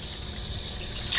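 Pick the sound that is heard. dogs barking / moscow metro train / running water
running water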